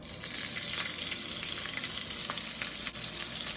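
Chopped green onions frying over medium heat in a pot of canola oil for Mexican rice, giving a steady loud sizzle that runs unbroken and close throughout.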